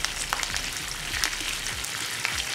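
Chana dal and curry leaves frying in a pan for ajwain fried rice, a soft, continuous crackle and sizzle with scattered pops, faint and close.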